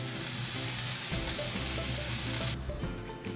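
Chicken tandoori pieces sizzling as they cook, a continuous close hiss with a steady low hum underneath and a faint clicking near the end.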